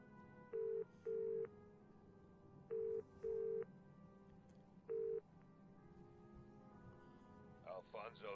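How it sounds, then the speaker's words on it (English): Telephone dialing in Broken Sword 4: five short tone bursts at uneven intervals, ringing over a steady low game hum, followed by a brief burst of noise near the end. "Phone Alfonso's Hotel."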